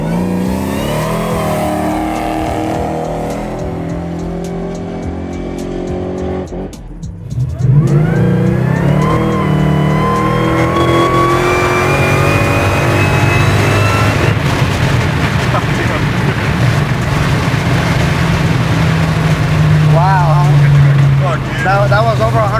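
A 1000 HP supercharged LS9 engine in a Chevy Colorado ZR1 with nitrous drops off briefly, then roars back and keeps revving loud and close while people talk over it.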